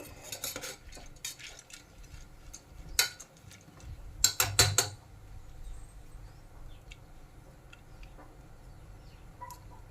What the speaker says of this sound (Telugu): జస్ట్ లైట్గా వేపుకోండి కందిపప్పు